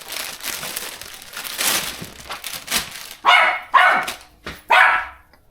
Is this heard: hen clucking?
no